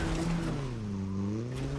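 A car in the Fortnite video game drives off, a short burst of engine hum with harmonics that dip and rise again, steady and moderately loud, with no talk.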